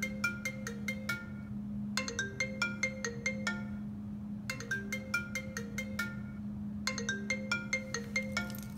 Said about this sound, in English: That's what a ringer's supposed to sound like on an iPhone 6.